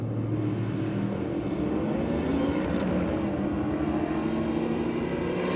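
A drag racing car making a pass down the strip at Sydney Dragway, heard as a steady, loud engine drone that rises slightly in pitch midway and holds continuously to the end.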